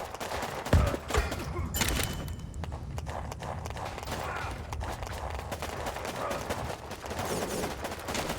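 Rapid, continuous crackle of small-arms Uzi fire from short-range infantry units in the Warpips strategy video game, dense overlapping shots at a steady level throughout.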